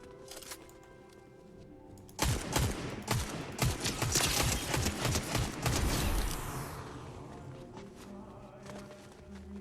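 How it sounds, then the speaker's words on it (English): A sustained volley of video-game gunfire erupts after a quiet stretch of background music, rattling loudly for about four seconds before fading away, with faint game sounds continuing underneath. "there's shooting over here"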